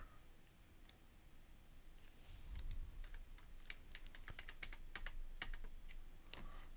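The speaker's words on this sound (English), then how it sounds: "How many hands are on that keyboard?" Someone types on a computer keyboard, a quick irregular run of close, light key clicks that grows busier in the second half, with no talking.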